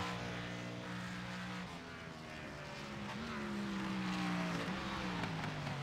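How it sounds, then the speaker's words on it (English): Engine note of a race car in a sim racing game easing off the throttle and coasting through a chicane on the Charlotte Roval, a steady droning tone that shifts pitch and rises slightly toward the end. "You can hear how much he's out of the throttle now. Kind of letting that car coast through there."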